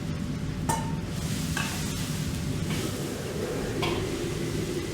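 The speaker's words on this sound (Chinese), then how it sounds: "然后转中小火将鱼骨头炒香炒碎， 中途加入剩下的姜葱一起翻炒。" Fish bones with ginger and scallion stir-fried in a wok over medium-low heat, a continuous oily sizzle with a few sharp scrapes and clinks of the spatula against the pan.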